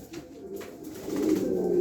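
Pigeons from a coop of performing birds coo softly and repeatedly up close, the low throaty calls swelling louder toward the end, with faint rustling and tapping around them.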